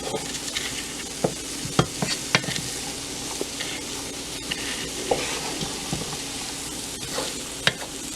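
Okra and shrimp frying in a pan in Guyanese home cooking, a steady close sizzle with scattered clicks and scrapes of stirring throughout.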